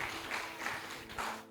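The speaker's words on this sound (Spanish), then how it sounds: "Dale fuertes palmas de alabanza al Señor." A church congregation claps in praise, a dense steady burst of many hands clapping together, close and fairly loud, lasting a brief moment.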